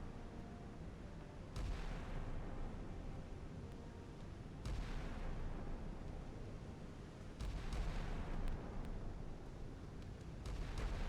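In the Pacific Strike '85 game, air defense weapons fire in several heavy booming bursts, spaced a few seconds apart over a continuous low rumble.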